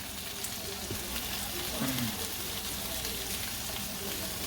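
Crab meat sizzles and fries in a pot as the base for pumpkin soup, a soft continuous crackling hiss heard faintly and steadily throughout.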